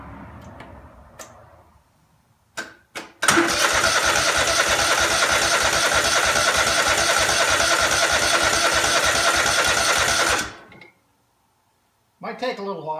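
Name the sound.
Craftsman DGT 6000 tractor engine cranking and starting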